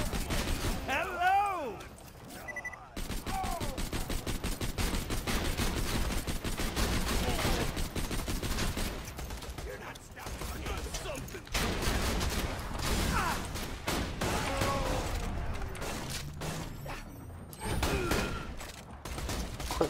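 Heavy, near-continuous gunfire from a Borderlands 2 firefight, bursts of automatic shots stacking densely for the whole stretch, with a voice talking over the shooting.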